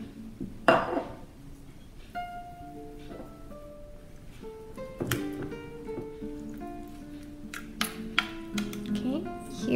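Chili sauce dressing with a pinch of sugar being stirred in a bowl, giving scattered light clinks and scrapes against the bowl under steady talking.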